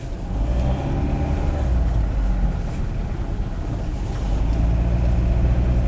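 A Dodge Neon pulling in first gear with no power and a slipping transmission: a steady, droning low engine hum with rumbling wind noise throughout, growing slightly louder near the end.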